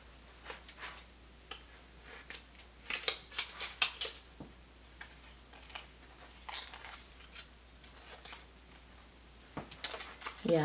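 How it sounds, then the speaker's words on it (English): Scissors are handled and snip near a silicone cuddle baby doll being dressed, giving scattered sharp clicks and cuts in irregular bursts, faint and close, with some quiet movement between them. "I got scissors. I'm gonna get scissors."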